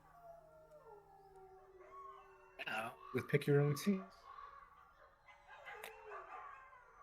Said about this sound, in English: Very loud howling in the forest can be heard in the distance as you continue forward.